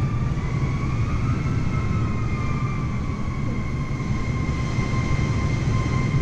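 Engines of a Lockheed L049 Constellation spin up in Microsoft Flight Simulator 2020. A steady droning roar sits under a rising and falling whine that holds without a break.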